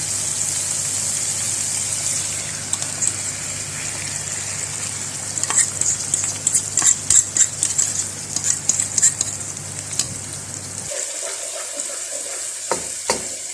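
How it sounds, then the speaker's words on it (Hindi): Vegetables fry in a hot pan for Chinese-style egg fried rice, a loud steady sizzle with a burst of quick clattering stir strokes midway, then the hiss thins near the end; no one speaks. "बस साथ ही सब्जियां फ्राई हो जाएंगी"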